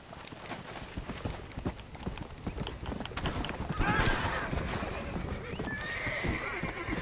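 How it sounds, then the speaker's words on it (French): Horse hooves clip-clop steadily as a horse-drawn cart approaches in the Red Dead Redemption video game, with whinnies and neighing rising louder midway, set against continuous background game ambience. "il y a une charrette qui arrive"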